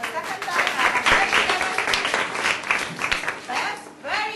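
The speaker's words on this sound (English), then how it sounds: "So clap your hands for yourself for the second time." A group claps their hands together in a classroom or training session, a loud, steady burst of many hands overlapping for several seconds, with a voice speaking at the end.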